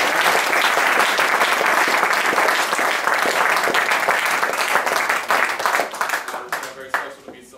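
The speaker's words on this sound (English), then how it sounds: "So if we could please give him a round of applause." Concert audience at a live jazz performance breaks into sustained, dense applause, loud and steady for several seconds before thinning into scattered claps as it fades out.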